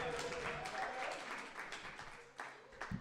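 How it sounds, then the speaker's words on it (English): Audience clapping for a poet at a faith-based poetry event, a moderate burst of applause that tapers off toward the end, with some voices underneath. "Can we clap it up again for Maya?"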